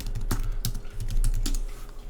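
Rapid keystrokes on a computer keyboard, a steady run of close, crisp clicks in an irregular rhythm, heard alone at moderate loudness.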